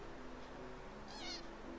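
A cat meows once, briefly and faintly, in a Mario video game, over a steady background of game music and noise.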